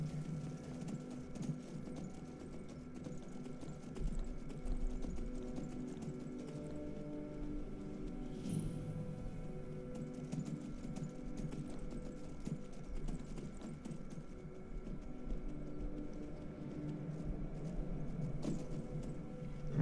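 Horse hooves clip-clop at a steady, even rhythm in the Skyrim video game, faint and continuous with no talking.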